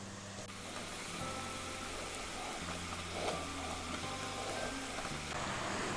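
Chickpeas frying in a kadhai for chana namkeen make a soft, steady sizzle of hot oil, fairly quiet and even, with a faint low hum underneath and occasional light stirring clicks.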